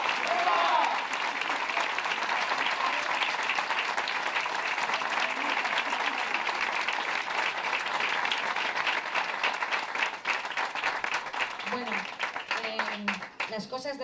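Crowd applause at a political rally marking Constitution Day in Salou, Tarragona, a long, dense and steady wash of clapping with some cheering mixed in.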